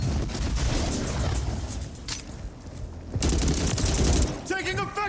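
Video game gunfire: dense, loud, sustained volleys of rapid shots that rattle on for several seconds, with a short lull midway and a brief voice shout near the end.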